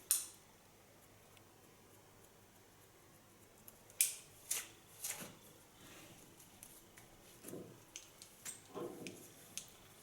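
Scissors point cutting hair for a medium-long bob, giving a few quick sharp snips spread out with short pauses, close and faint in an otherwise quiet room.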